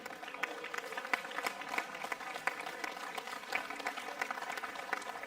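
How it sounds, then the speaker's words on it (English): Distant, fairly faint applause from an audience at a finals event, honoring the organizing team; a continuous patter of many hands holding steady throughout with no speech on top. "also a big applause for you, the organization team"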